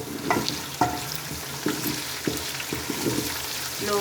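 Black-eyed beans (lobia) lightly frying in a pan give a soft, steady sizzle, broken every half second or so by close, sharp clinks and scrapes from stirring.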